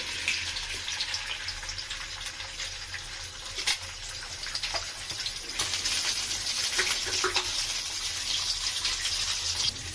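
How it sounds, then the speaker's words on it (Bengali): Hot oil hissing and spitting as an egg fries, a steady sizzle that grows louder and denser partway through. "তেলটা গরম হওয়ার পরে আমি একটা ডিম হালকা করে একটু ফ্রাই করে নিব"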